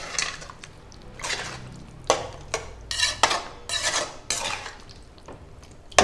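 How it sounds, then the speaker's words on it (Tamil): A spoon stirs eggplant and potato gravy around a metal pot in a series of uneven clinks and scrapes, close by, with no talking. "இதை நல்லா கலந்து விட்டுடலாங்க"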